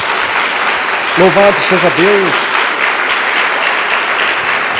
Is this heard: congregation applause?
yes